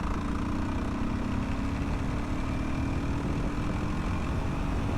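Honda CRF450RL motorcycle accelerating in sixth gear from about 30 mph, its engine a steady, continuous drone heard from the rider's position with rumbling wind noise throughout.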